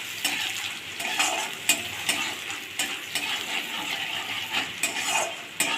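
Onions fry to a brown colour in a pan for a katla fish curry, a loud close sizzle broken by repeated sharp spatula scrapes and clatters against the metal at an uneven rhythm.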